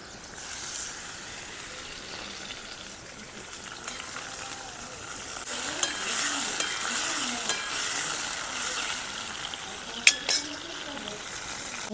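Gunda (Cordia) vegetable cooking in a pan for Kathiawadi-style village shaak, a steady soft sizzle with occasional stirring scrapes and a couple of sharp utensil clinks near the end.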